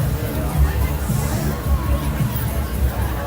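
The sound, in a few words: crowd gathered at a Veterans Day parade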